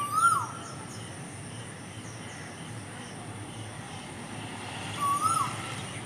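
An Asian koel gives two whistled calls among the branches, one at the start and one about five seconds later, fairly distant over a steady low drone.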